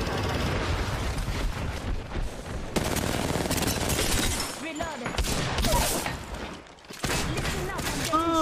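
Repeated shots from a Wingman pistol in Apex Legends, loud cracks mixed into heavy firefight noise, explosions and chaotic combat clatter, with voices talking over the battle.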